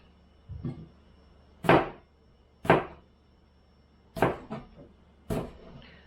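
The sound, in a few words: knife cutting apples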